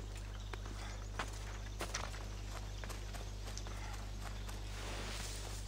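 Horse hooves clop faintly and irregularly in Assassin's Creed Odyssey, scattered steps over a steady low hum.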